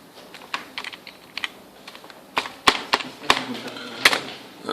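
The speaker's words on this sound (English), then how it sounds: "if I type text" Text being typed on a computer keyboard while working in Microsoft Excel, irregular bursts of close, crisp key clicks that grow louder and denser toward the end.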